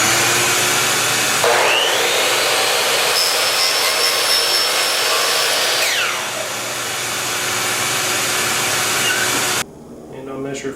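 A power miter saw cuts a 21.75-degree angle off the end of a rounded baseboard centerpiece: a loud motor spins up, whines steadily through the cut for several seconds, then winds down and stops near the end.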